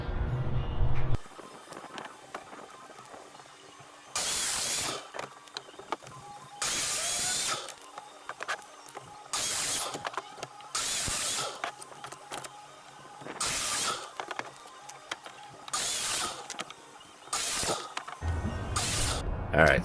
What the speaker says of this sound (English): I'm going to try to cut these fire logs and then turn them on my lathe